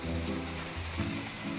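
Rain falls in the video game My Time at Portia as a continuous hiss, under low, steady tones of game music that change pitch a few times.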